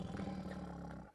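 A tiger roars in a zoo enclosure, one deep, rumbling roar sustained for about a second, loud and close, before cutting off into quiet.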